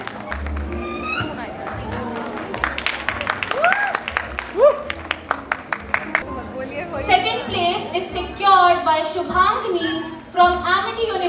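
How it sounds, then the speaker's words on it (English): At an International Women's Day award ceremony, audience clapping starts as quick scattered claps, then fades under crowd chatter and children's voices that dominate the latter half. "Please give a big round of applause for Stuti."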